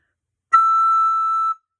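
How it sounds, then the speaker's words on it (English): A soprano recorder sounds a single high E, a steady, pure whistle-like tone held for about a second alone, starting cleanly and stopping abruptly. "There's your high E."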